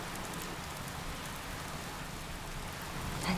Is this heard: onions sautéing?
no